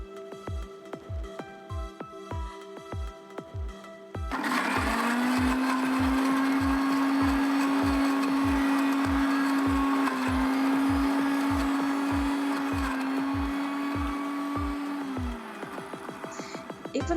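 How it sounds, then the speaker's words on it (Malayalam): An electric blender whirs loudly and steadily for about eleven seconds, blending homemade hummus with garlic, lemon juice, salt and water. A quieter rhythmic ticking comes before it starts, and it winds down near the end. "നന്നായിട്ടൊന്ന് ബ്ലെൻഡ് ചെയ്തെടുക്കാം"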